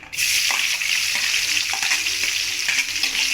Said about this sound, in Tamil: இப்போ எண்ணெய் காஞ்சிடுச்சு இப்போ நம்ம வெங்காயம் சேர்த்துக்கலாம்